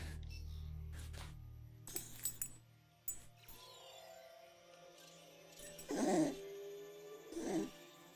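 A dog whimpering and yipping indoors, short faint whines scattered among clinks, with two louder higher whimpers near the end, all alone without talk.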